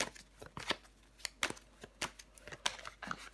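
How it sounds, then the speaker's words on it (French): Tarot cards handled and laid out on a table during a reading, a close series of sharp flicks, slaps and shuffling snaps in an irregular rhythm with brief pauses, no talk. "Je vais recouvrir des cartes."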